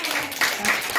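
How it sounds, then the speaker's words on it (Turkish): Young kindergarten children clap for a classmate in a preschool classroom, a short burst of quiet, scattered applause with faint voices mixed in. "Hasan'a alkışlayalım."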